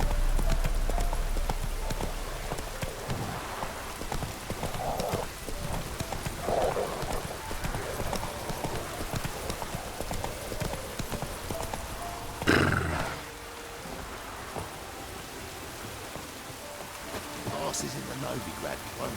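A horse gallops in The Witcher 3, hooves drumming in a fast continuous rhythm, with rain pattering and a voice speaking over it, then a sharp burst midway before the hoofbeats settle.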